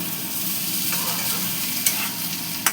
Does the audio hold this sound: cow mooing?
no